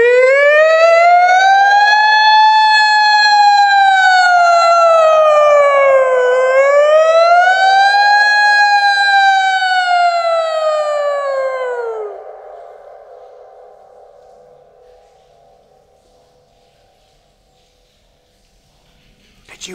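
A person's voice imitates a wailing siren inside a tunnel, rising and falling in two long sweeping cycles before gliding down and fading into a long echoing tail.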